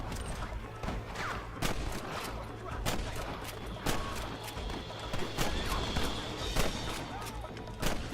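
Gunfire in the Western video game Red Dead Redemption, with repeated sharp shots spread across a busy, steady game soundscape and some faint background voices.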